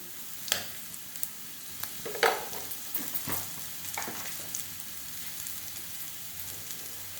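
Bitter gourd sautéing in a pan gives a soft, steady sizzle, broken by several sharp scrapes and clacks of a spatula as it is stirred.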